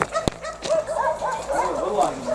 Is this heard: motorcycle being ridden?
no